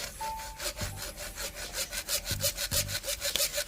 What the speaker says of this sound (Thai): เอามาเลื่อย PVC PVC มันไม่ได้แข็งอะไรมาก